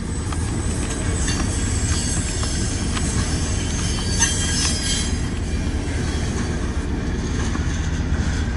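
A Southern Pacific manifest freight train rolls past close by, a loud continuous roar of wheels and cars with metallic squealing throughout.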